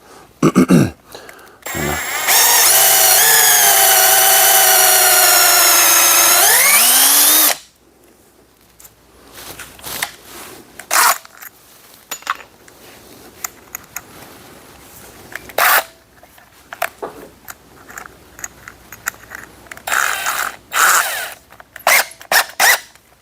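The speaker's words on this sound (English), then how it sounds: "I can hear it cracking when I'm drilling here" A power drill whines loudly and steadily for several seconds, drilling into a cracked wooden axe handle, then stops, leaving scattered clicks, creaks and handling noises.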